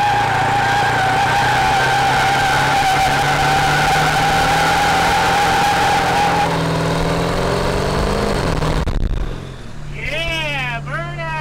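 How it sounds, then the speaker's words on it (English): Tire burnout from a Bronco swapped with a stock 7.3L Powerstroke diesel, both tires spinning with a loud sustained squeal and engine drone that fades out, then people talk nearby. "Yeah, burnout, it did it."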